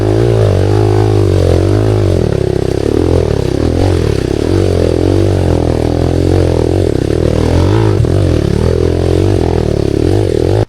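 An enduro motorcycle climbing a short, steep hill trail, its engine loud and close with a continuous labouring drone and shifting revs as it pulls uphill, alongside faint clatter from the rough ground.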